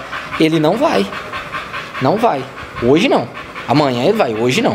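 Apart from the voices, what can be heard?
dog panting and whimpering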